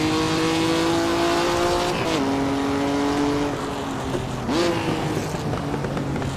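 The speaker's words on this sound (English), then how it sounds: "Oh, this Ferrari sounds so good though. It's really, really nice, this Ferrari." Ferrari in Assetto Corsa on a Northern Pennines country road: a loud, close engine holding a steady high note, dropping sharply at a gear change, then rising again in a quick rev.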